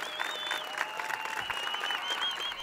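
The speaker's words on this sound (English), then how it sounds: "as we hear the claps beginning" Steady applause from a crowd at a disc golf European Championship final, outdoors, continuous clapping at moderate distance with a faint tone running through it.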